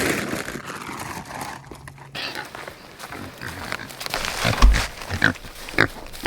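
Pigs on a farm grunt and snuffle at close range while being fed, irregular rough bursts that come over rustling and crinkling, with a voice also heard at times.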